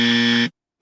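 A basketball buzzer sound effect: one loud, flat, harsh electronic tone lasting about half a second, then cut off abruptly into silence.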